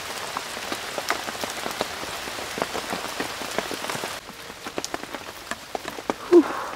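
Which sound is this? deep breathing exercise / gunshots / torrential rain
torrential rain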